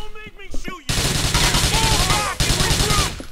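Rapid automatic gunfire, including an MP5, rattles in Grand Theft Auto IV in loud, dense bursts, broken by a brief pause. Voices in the game are heard at the start and mixed in under the shots.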